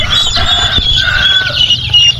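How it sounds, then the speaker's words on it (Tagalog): Turkeys and chickens kept together in a farm pen, with steady clucking and bird calls near and continuous against a low background rumble. "pabo manok halo-halo sila dito"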